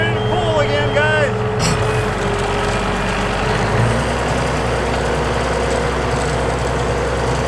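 A tractor engine roars loud and steady through a tractor pull on a dirt track, a heavy continuous drone that fills the whole stretch with no pause.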